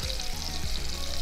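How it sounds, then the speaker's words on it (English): Steady, close sizzling and crackling of meat frying hot in a clay pot, a continuous bright hiss with small pops throughout. "you can hear it sizzle in this clay, testy pot."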